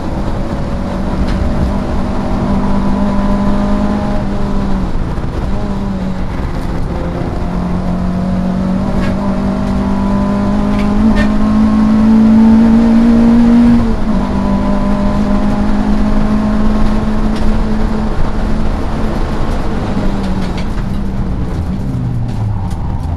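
A Peugeot 205 GTi race car lapping Pembrey circuit, its engine holding a steady, loud drone that climbs in pitch midway and then settles, with continuous engine noise and no talking.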